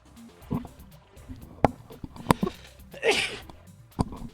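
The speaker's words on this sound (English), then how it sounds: "Oh, I just sneezed, sorry." A single close sneeze bursts out amid light clicks and small rustles, followed by a few sniffs and taps, with no talk.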